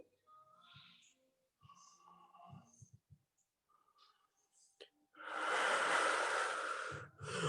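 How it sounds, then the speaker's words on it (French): Deep breathing during a stretching and balance workout: a few soft, scattered sounds and brief vocal murmurs first, then a loud, long, close exhale lasting about two seconds. "Respirez profondément."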